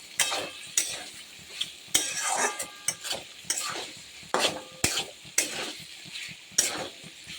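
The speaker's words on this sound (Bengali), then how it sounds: "দেখো দেখি আলুটা গলে গেছে কিনা। হ্যাঁ, আর একটু ভাজা ভাজা হবে।" Potatoes frying in a pan, stirred with a metal utensil in repeated sharp scraping strokes over a soft, steady sizzle, close and alone with no talking.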